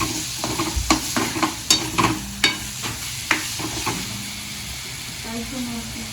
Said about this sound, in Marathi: तेल टाकले की आता चिकनला तेल टाकतं ना